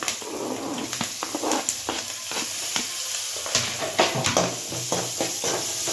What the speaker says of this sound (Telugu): ఆనియన్స్ కూడా కొంచెం ఫ్రై చేసుకోవాలి